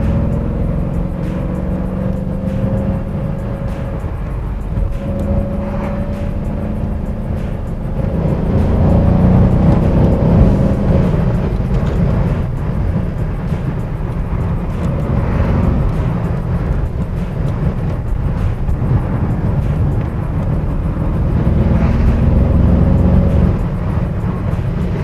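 A Mercedes CLS 63 AMG with its V8 BiTurbo engine pulls hard from inside the cabin, a deep continuous engine roar swelling and easing as the automatic gearbox shifts, loud and sustained throughout.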